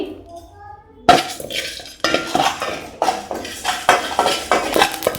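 Whole spices for an egg curry masala, including cloves, black pepper, cardamom, shahjeera and coriander seeds, are stirred in a pan. A metal spatula knocks and scrapes repeatedly in a loose rhythm, each close clink followed by a softer rattle.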